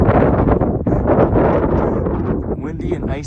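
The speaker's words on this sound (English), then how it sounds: "Windy and icy." Strong wind buffets an exposed fire tower on an icy winter trail, a loud continuous roar with gusty rushing noise pressing against the microphone throughout.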